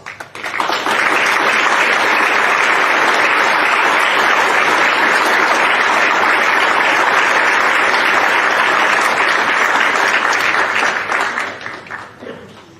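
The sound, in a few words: graduates' applause at commencement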